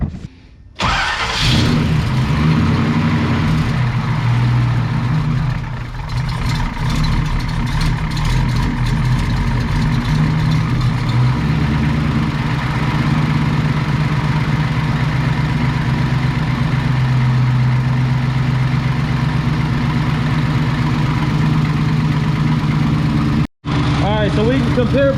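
A car engine with headers cold-starts with a brief crank and catch, then settles into a loud, steady, rumbling idle close by, with someone talking occasionally over it.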